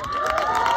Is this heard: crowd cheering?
yes